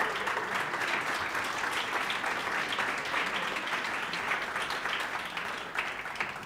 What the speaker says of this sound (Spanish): os pido también otro aplauso para ellas